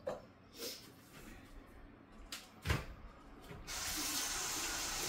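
Tap water runs into a kitchen sink for hand washing after handling raw meat. It begins after a few soft knocks and clatters and then streams steadily and fairly loudly to the end.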